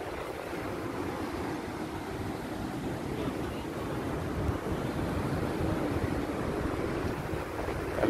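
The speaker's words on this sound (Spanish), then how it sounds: "El mar." Sea waves wash against the La Ceiba seafront promenade in Honduras, a steady broad rush of surf mixed with wind buffeting the microphone, moderately loud and continuous, with no talk.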